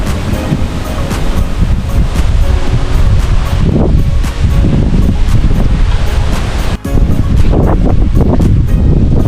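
Strong wind from Typhoon Kristine roars in loud, buffeting gusts that swell and ease over a constant rushing blast, with heavy wind noise on the microphone and no talking.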